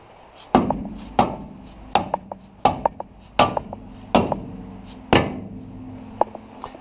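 Sharp metallic hammer strikes drive a brake caliper into place on a 1968 Mercury Cougar front end, about eight evenly spaced, ringing blows, close and loud, with no talking.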